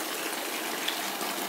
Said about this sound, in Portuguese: água já tá saindo bem limpinha, bem limpinha